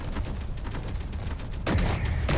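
Turret weapons fire during an attack in Space Engineers, a dense, loud, continuous barrage of rapid shots with heavier bursts near the end, no voices.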